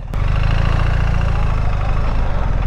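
A 2025 BMW R1300GS Adventure motorcycle with an automated gearbox idles close by, its boxer engine giving a loud steady low throb that wavers slightly and dips near the end.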